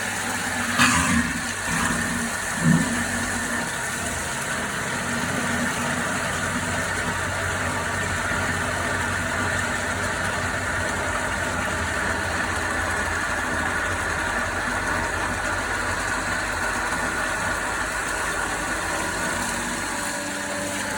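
A water pump station runs steadily at a well being flushed to raise water from a low static level, giving a continuous mid-to-low engine-like hum with a couple of brief knocks near the start and no talk.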